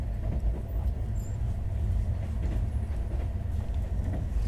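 Steady low rumble of the New Delhi to Sealdah Rajdhani Express running at high speed, with a continuous rolling roar and faint rattling throughout, no voices.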